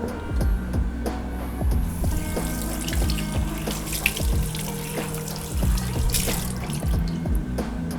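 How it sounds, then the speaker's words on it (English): Tap water runs steadily into a sink while squid is washed under it, a continuous splashing stream broken by handling knocks and wet squelches close by. "What you want to do is that you want to wash the internal part and make sure it's clean"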